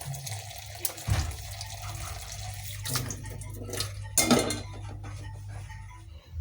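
Quinoa is rinsed under a running kitchen tap, with a steady close stream of water splashing into a bowl and occasional louder swishes and clinks of the grains being moved.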